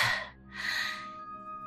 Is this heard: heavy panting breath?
yes